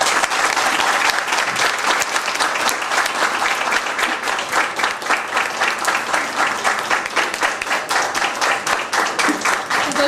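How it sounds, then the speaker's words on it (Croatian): A crowd at a Bunjevac carnival evening gives a big, sustained round of applause for volunteer firefighters: dense, even clapping that fills the room without a break for about ten seconds. "Evo, jedan veliki aplauz"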